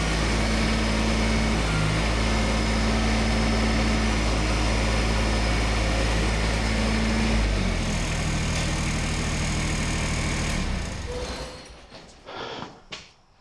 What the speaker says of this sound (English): Now the tractor's ready to use.